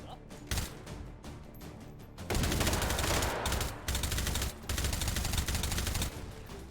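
Automatic gunfire in the VR game H3VR as whole magazines are emptied: long, loud, continuous bursts of rapid shots with brief pauses between strings, after a few lighter sounds at the start.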